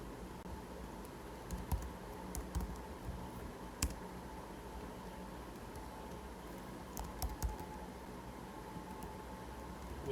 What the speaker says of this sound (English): first we'll write our Aptos